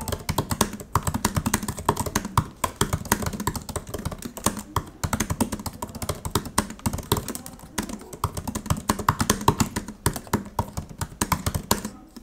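Typing on the new keyboard of a 14-inch MacBook Pro, close and steady, a rapid stream of soft clicky keystrokes with uneven rhythm and no talking.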